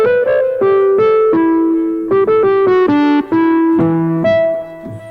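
An AXIS Oblivion cinematic synth patch from Barcode Industries plays with its arpeggiator switched off, a sequence of sustained, bright tonal notes changing pitch every half second or so, steady and close with no voices.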